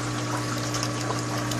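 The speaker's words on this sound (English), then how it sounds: "It just splashes back into the bucket." Water from a surge device on a 75-gallon reef tank splashes continuously into a bucket, making a steady close-up rush and trickle with a low pump hum beneath it.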